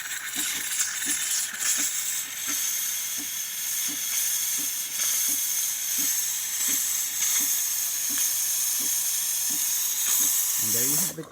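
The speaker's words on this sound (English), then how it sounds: "And now steam." De'Longhi Magnifica coffee machine letting out a loud, continuous steam hiss that runs nearly the whole time, over a faint regular ticking pulse from the machine, and ends with a short sputter.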